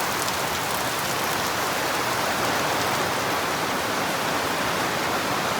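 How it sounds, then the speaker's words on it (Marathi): Heavy rain pours down steadily near a hillside hut, a dense, unbroken hiss of drops on surfaces, loud and close, with no voices. "पाऊस एवढा लागलाय"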